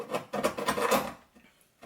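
A file rasps across holes in an acrylic plate in quick, uneven back-and-forth strokes, loud for about a second before tapering to faint scrapes.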